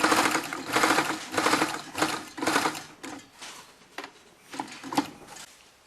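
Sewing machine stitching an unlined shirt-jacket, running in several close bursts of rapid whirring stitches separated by brief pauses, then slower, lighter stitching toward the end.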